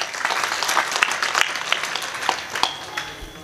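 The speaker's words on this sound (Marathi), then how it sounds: "एकदा महाराजांकरता जोरदार टाळी वाजवा" Audience applause for a visiting maharaj at a kirtan gathering, a steady wash of clapping with scattered sharper claps throughout, fairly close and continuous.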